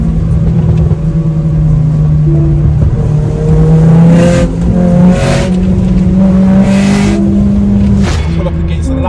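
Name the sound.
tuned Audi S3 8P 600bhp engine during spirited drive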